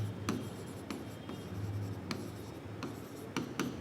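Marker strokes on a board during an accounting lesson, a series of short scratchy swipes and taps at irregular intervals, close and fairly quiet over faint room noise, without speech.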